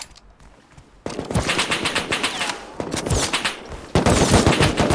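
Sustained automatic AK rifle fire in the survival game Rust, loud and close, in rapid bursts after a quieter opening second, with the volume jumping near the end as the shooting intensifies.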